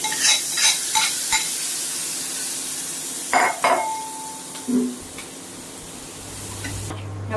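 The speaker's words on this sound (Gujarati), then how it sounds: "રાઈ તળી જાય એટલે આપણે નાખશું જીરું. જીરું તળી જાય એટલે હિંગ અને આપણો તૈયાર કરેલો મસાલો જેની અંદર લસણ ને બધું છે નાખી દઈશું." Mustard seeds, cumin, asafoetida and a garlic masala fry in hot oil with a constant hiss, punctuated by spoon clinks and stirring scrapes against the pan.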